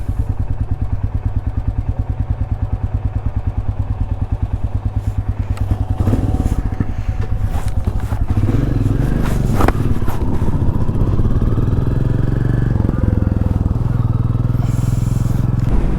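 Royal Enfield Classic 350 motorcycle engine throbbing steadily while riding, a loud, continuous low thumping drone with clattering and wind noise building after the first few seconds, no talking.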